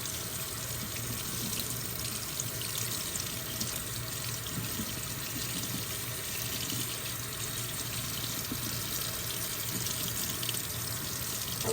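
Tap water runs steadily over a pre-printed hand embroidery design sticker as it rinses away, a constant close hiss of flowing water at a sink with no talk.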